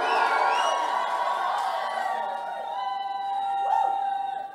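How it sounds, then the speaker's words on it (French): A church congregation shouting and cheering for joy, a loud sustained swell of many voices that gradually eases off. "Donne des cris de joie à Jésus."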